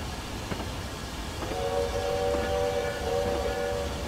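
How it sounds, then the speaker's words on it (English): A goods train passes on Scotland's western lines, a rumbling roll with a sustained tonal whine or horn-like drone rising midway, heard from nearby over steady background noise. "Is that a goods train?"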